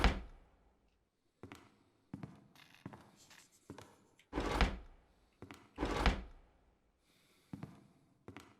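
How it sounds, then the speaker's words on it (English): Wooden drawers in a horror video game are yanked open one after another, each a loud hollow thunk or scrape with brief quiet gaps between, several bursts booming especially strong. "these are the loudest drawers I have ever heard"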